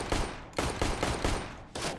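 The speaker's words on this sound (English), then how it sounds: "I can shoot a little bit. Let's shoot." Rapid bursts of video game gunfire fired with a Logitech G305 wireless mouse, several loud shot volleys in quick succession with brief gaps, alone without talk.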